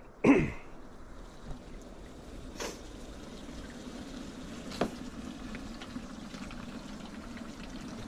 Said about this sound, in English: He's filling up jerry cans.